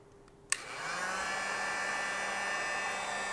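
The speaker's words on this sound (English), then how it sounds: "Going to use just a normal heat gun and just to heat these up here" A click, then a heat gun whirs up and blows steadily with a constant high-pitched fan hum and rushing air, close and continuous.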